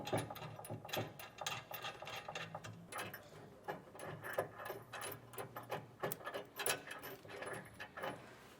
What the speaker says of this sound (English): we can just thread all those on.